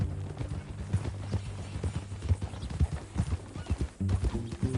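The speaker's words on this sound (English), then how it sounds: "That a new horse?" A horse in Red Dead Redemption 2 trots with steady, rhythmic clip-clop hoofbeats close by, a snort or whinny mixing in near the end.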